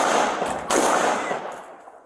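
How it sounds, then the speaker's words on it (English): Police officers fire their guns at a suspect during a tense confrontation, a dense burst of sharp, loud gunfire lasting about two seconds that stays loud and then fades slightly toward the end. "shots taken, suspect down"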